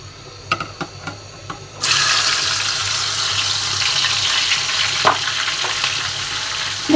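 Chicken pieces dropped into hot oil for biryani set off a loud, steady sizzle that rises abruptly after a few soft clinks and continues close up, with a brief scraping stir near the end.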